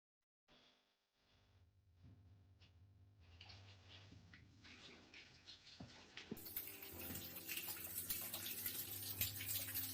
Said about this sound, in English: Notice that there is a spring of water here inside the cave